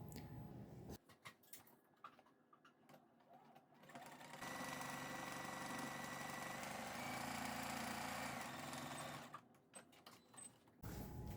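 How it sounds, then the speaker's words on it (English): A sewing machine runs a final zigzag stitch on an improv patchwork pillow cover made from fabric scraps. About five seconds of steady whirring sit between quieter fabric handling and clicks at the start and end. "I just like to give it a little check before I do that final zigzag"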